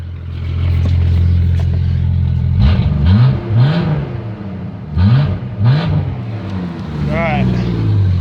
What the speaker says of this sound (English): Let's rev this one up and let's rev the Ranger up.